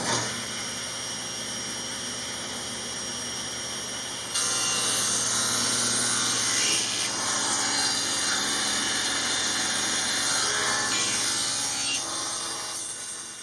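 A saw cuts steadily through the corner of a wooden fold-down table, a continuous rasping drone that grows louder partway in and holds close and constant.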